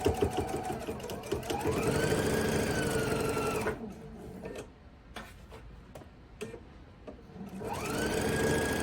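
A sewing machine stitches a quilt block in rapid mechanical bursts, running steadily, pausing for a few scattered ticks and clicks, then starting up again; close and fairly quiet with no speech.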